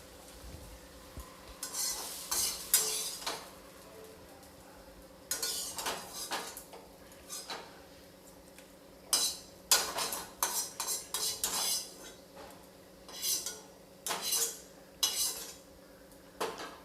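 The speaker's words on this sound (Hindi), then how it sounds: "अब मैं इसको एक प्लेट में निकाल कर रख लूँगी।" Fried food made with pumpkin leaves and besan is scraped and lifted from an oil-filled kadhai onto a plate, with repeated metallic clinks and scrapes of a spatula over a faint background sizzle, close by and without talk.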